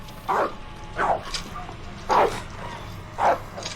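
A feisty dog barks four times in short, sharp bursts spaced roughly a second apart, fairly close and loud over a steady room hum, with no talking between the barks.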